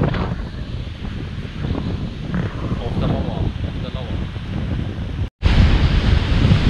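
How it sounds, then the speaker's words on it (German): Strong wind buffets the microphone at a Florida beach in Naples, with ocean surf rolling steadily in the background, a loud continuous roar that briefly cuts out and returns. "Es ist immer noch windig. Da hinten ist das Meer."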